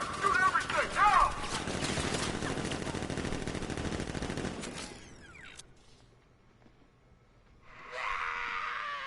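Automatic gunfire from a militia ambush in the video game Batman Arkham Knight, dense and sustained rapid bursts for several seconds under game effects, then dropping away into quieter ambience.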